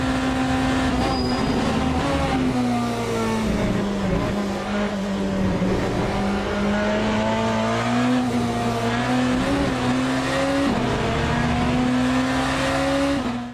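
Le Mans Ultimate hypercar in third gear, engine droning loud and steady throughout with pitch rising and dipping, briefly hovering at the rev limiter on a racing-sim track at Spa.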